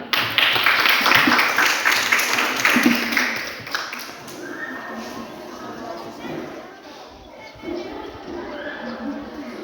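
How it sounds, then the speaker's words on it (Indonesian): Audience applause in a classroom discussion session on women's resistance to injustice, a dense wash of clapping strongest in the first few seconds and then thinning, with a voice talking over it. "Tepuk tangan dulu"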